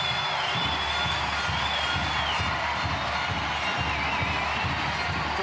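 Stadium crowd at an NWSL soccer match between San Diego Wave and Orlando Pride, a dense continuous roar of voices with scattered cheering and clapping, steady and loud throughout with no clear single voice on top.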